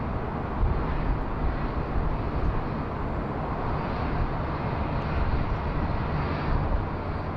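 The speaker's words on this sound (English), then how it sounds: "Here it is, the Jetstar Generation." Jetstar airliner landing at Sydney Airport in high wind, heard as a steady, distant roar of jet engines that holds at a fairly even level throughout.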